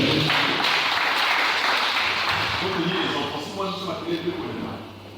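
A church congregation applauding to acclaim the Lord, a loud dense wash of clapping that fades gradually over several seconds as a voice comes up beneath it.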